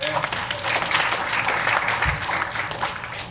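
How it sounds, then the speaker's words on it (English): A room of people claps for volunteers at an event, a moderate wash of applause with murmuring voices underneath throughout. "give a round of applause for our volunteers here"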